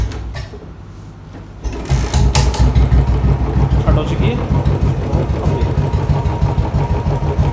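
A Royal Enfield Bullet motorcycle fitted with a modified headlight starts up close by after a brief spoken line. It then settles into a loud, steady, rapid thumping idle.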